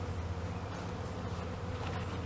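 Honey bees drone densely and steadily at a hive, forming a continuous buzzing swarm close by.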